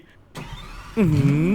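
A Dubai-style luxury car in the Roblox video game starts up: a soft click, then the engine catches at the end with a loud, rising hum that holds steady.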